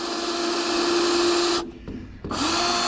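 A power drill drives a long decking screw into wood while repairing a sliding barn door track, its motor whining loud and steady, then briefly stopping and starting again.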